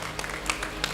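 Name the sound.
applause for the parents at a graduation ceremony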